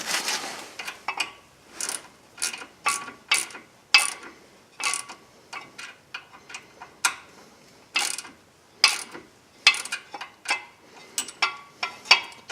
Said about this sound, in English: let me get a small wrench to tighten that up